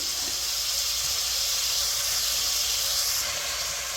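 A pound of ground turkey sizzles in a hot pan, giving a loud, steady hiss of frying that holds evenly for several seconds with no talk over it.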